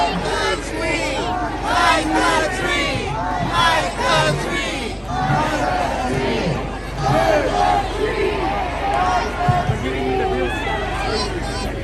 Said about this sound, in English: you can hear people in the crowd getting frustrated